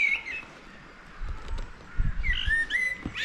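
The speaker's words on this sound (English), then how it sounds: "Ah, you can hear the birds singing up there." Faint, scattered bird chirps and whistles at a distance, a few short high calls coming and going over quiet outdoor ambience.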